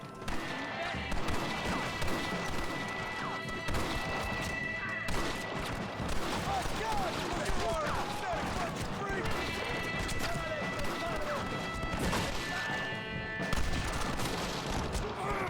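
Gunshots in the Western video game Red Dead Redemption, with rifle cracks and bursts of gunfire mixed with horse hooves and clatter while a player talks over the action throughout.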